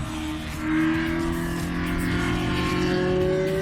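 A Ferrari barchetta at speed, its engine giving a loud steady drone with a tone that slowly climbs as it pulls, close and continuous with no talk.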